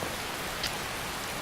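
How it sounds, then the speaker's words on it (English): Steady rain falling in the video game Skyrim, a constant soft hiss of downpour with no talk over it. "seeing as it's chucking it down with rain"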